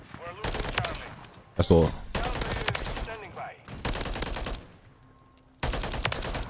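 Holger 556 assault rifle gunfire in the video game MW3 comes as several loud, sustained bursts of rapid shots separated by brief pauses, with someone speaking briefly in between.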